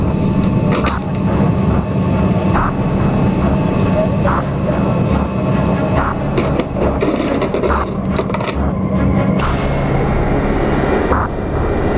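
A steady roaring airliner engine drone fills the cabin continuously in flight, with faint knocks and rustles on top and a hint of voices.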